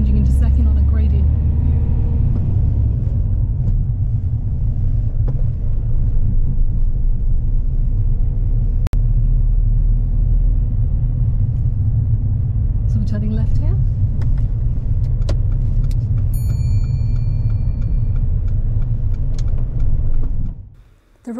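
A learner's car pulling away on an uphill gradient as the clutch is lifted, steady low engine rumble close up inside the cabin, continuous throughout, with an instructor's voice talking over it.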